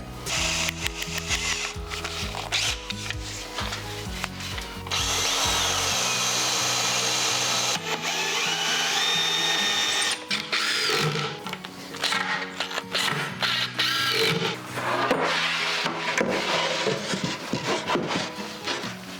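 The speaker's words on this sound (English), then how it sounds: "I'm just going to go and grab my screws and my drill" A power drill whirs in repeated bursts, driving screws into plywood with a high whine while building a kitchen cabinet, while music plays steadily underneath.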